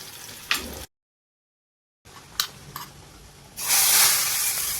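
Tadka of butter or ghee with hing, chopped garlic and dried chili hitting a hot pan for palak paneer, giving a loud broad sizzle and hiss in bursts, broken by a short silent cut.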